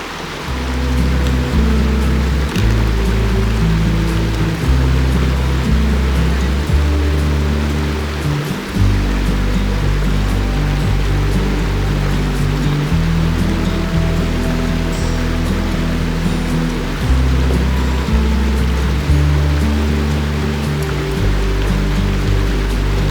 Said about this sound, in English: listening to the rushing stream